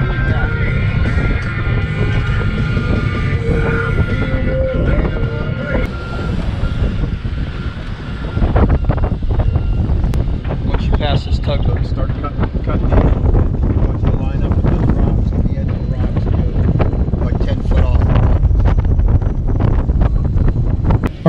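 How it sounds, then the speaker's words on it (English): Strong wind roars and buffets the microphone continuously, with rumbling gusts throughout and faint voices underneath. "It was really windy."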